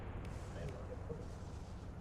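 Gunfire in the video game Mass Effect 2, heard as a steady, muffled rumble of combat with faint pops buried in a low roar, with no clear distinct shots.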